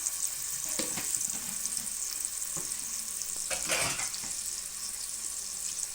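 Mango pieces frying in hot oil with turmeric for a mango dish, a steady close sizzle and crackle that swells briefly with a few stirring scrapes, with no talk.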